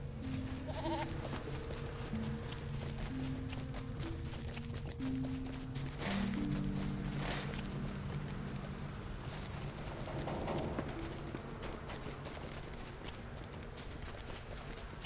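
A goat mount in the online game LOTRO walks along with a steady, even clip-clop of hooves and occasional bleats, over sustained background music tones.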